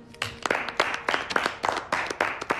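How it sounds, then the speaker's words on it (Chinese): Office colleagues clap together at work, a burst of scattered handclaps lasting a couple of seconds, moderately loud and close, with no talking over it. "我们来给他鼓鼓掌"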